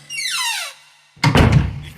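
A room door being shut as a radio drama sound effect: a descending squeak of the hinge, a brief pause, then a loud close thunk with a short rattling tail.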